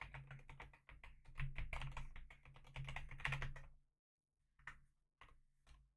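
Rapid clattering keystrokes on a computer keyboard, close and quick, pausing briefly before a few final taps.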